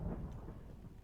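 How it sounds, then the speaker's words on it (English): A lightning strike is summoned with a lightning staff in Minecraft, giving a brief, deep thunderous rumble that rolls off quickly, heard alone. "the lightning staff. And this allows you to summon lightning"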